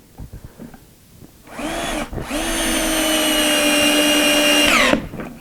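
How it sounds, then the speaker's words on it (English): Cordless drill driving a screw into a Kreg pocket-hole joint in wood, a brief whir, a short pause, then a steady rising whine for about three seconds before it stops; close and loud, with no talking. "And put the screw in."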